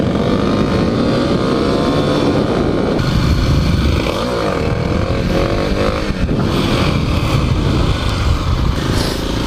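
A Kawasaki KLX300 dirt bike engine revs hard while riding over soft, muddy ground in a suburb, a loud, continuous buzzing roar close by, rising and falling with the throttle, with no talk.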